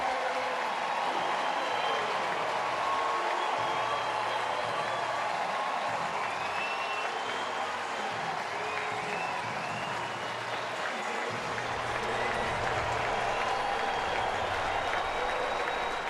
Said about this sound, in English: Listen to the cheer for Jordan Walker.